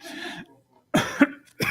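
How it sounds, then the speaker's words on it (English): Two or three sharp, close coughs into a face-worn microphone in quick succession, separated by brief silence, with a short throat-clearing quality to the first. "Wearing the face mic, you turn to cough, doesn't do anything."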